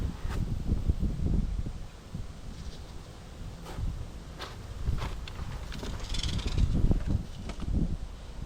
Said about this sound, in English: wind does not like me out here